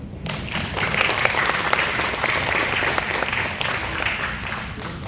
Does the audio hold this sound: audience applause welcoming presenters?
yes